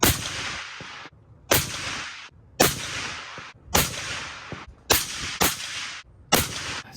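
Six sharp rifle shots from a .308 Winchester with a Bartlein barrel firing 110-grain coyote loads, each a loud crack with a decaying echo tail, spaced about a second apart, with no talking.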